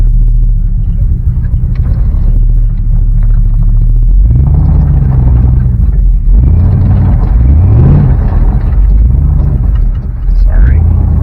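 A Chevrolet C10 pickup truck with no bed rumbles steadily while backing up on dirt, its low engine note rising and falling as it revs and the tires spin, with a person talking over it throughout.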